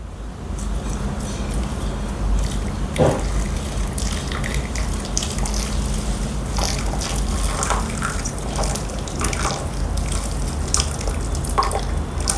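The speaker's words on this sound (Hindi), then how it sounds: "और अब इसमें ऐड करते हैं गर्म पानी। Guys again some boiling water, हल्के हल्के डालना है।" Hot boiling water poured gently into a container for cleaning silver, giving a steady close trickle and splashing with scattered drips throughout.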